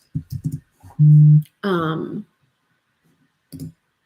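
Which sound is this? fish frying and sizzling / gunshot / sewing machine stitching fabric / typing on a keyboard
typing on a keyboard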